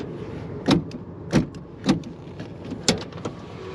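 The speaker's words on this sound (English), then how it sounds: "Power locks. Passenger door goes down, as does the rear one." Power door locks dropping on the passenger and rear doors of a compact early Ford Bronco SUV, heard as several short, sharp mechanical thunks spaced about half a second apart over a low steady background hum.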